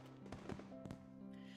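Fireworks at a school festival in the visual novel Katawa Shoujo, heard as a few soft, muffled bursts over a steady hum of background music, fairly quiet throughout.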